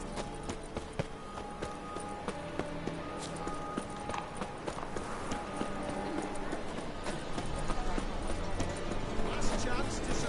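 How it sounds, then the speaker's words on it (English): A horse gallops in the video game Witcher 3, with rhythmic clip-clop hoofbeats that build louder over several seconds beneath game sounds and speech. "A horse comes."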